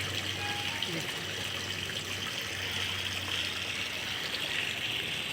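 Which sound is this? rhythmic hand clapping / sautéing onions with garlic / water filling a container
water filling a container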